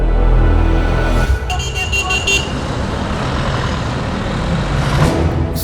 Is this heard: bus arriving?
yes